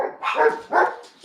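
A dog barks in a quick series of three close, sharp woofs with short gaps between them.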